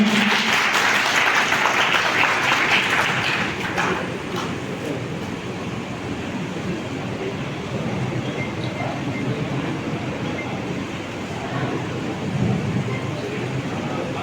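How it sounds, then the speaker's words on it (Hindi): Loud applause rises from the audience at a community charitable society's student award ceremony in Merta, a strong burst of clapping for the first few seconds that gives way to a lower, rumbling crowd din. "एक बार जोरदार तालियां।"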